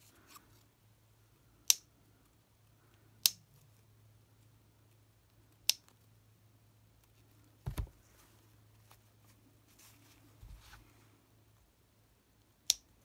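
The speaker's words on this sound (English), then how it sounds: "Should be using my small scissors here." Small scissors snipping fabric at an embroidery and sewing table, several crisp isolated snips spaced a second or two apart over a low steady hum, with no talking.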